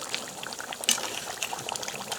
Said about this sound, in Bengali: মাংসটায় গরম জল দিয়ে এখন নেড়ে ছেড়ে দিচ্ছি, আর একটু জল লাগবে, গরম জল